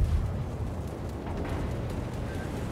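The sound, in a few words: naval shell fire in World of Warships video game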